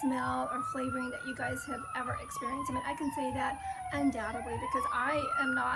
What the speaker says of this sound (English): oh, excuse the siren.